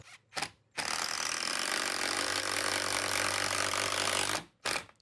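An impact driver sinks a 3.5 inch screw into the metal shield of an entry door hinge, a loud, steady rattling hammer lasting about three and a half seconds, preceded by two short bursts and followed by one more brief burst.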